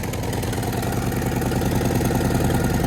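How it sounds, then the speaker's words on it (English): A Harley-Davidson Road Glide engine idles steadily with a slight exhaust leak, producing a dense, continuous loping rumble with rapid pulsing, close and loud throughout without speech. "we still got a slight exhaust leak up here."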